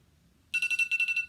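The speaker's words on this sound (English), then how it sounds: "My timer sounds like this." A timer alarm goes off, a bright electronic beeping in a steady rapid pulse of about eight quick bursts, loud and close, alone after a moment of near silence.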